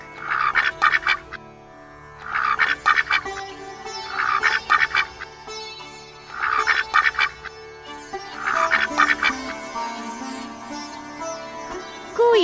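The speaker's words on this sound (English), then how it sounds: "Duck." A duck quacks in five separate bursts of rapid nasal calls, each group of quacks loud and close with short quiet gaps between, set against a faint steady background and no talking.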